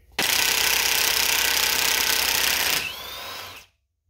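A power tool, likely an impact wrench, rattles loudly and continuously for a few seconds as it removes the front axle nut on a Ford Fusion, then winds down and stops into silence.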